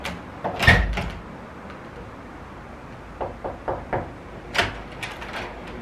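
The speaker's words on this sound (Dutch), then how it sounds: "klopt aan de deur" A few knocks on a hotel room door, a short cluster of soft raps after some louder bumps, heard from nearby in a quiet room.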